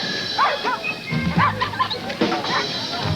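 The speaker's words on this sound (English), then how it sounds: "Dogs." Dogs in a 1986 Bud Light beer commercial give a few short, close yipping barks and woofs in quick bursts over a faint background.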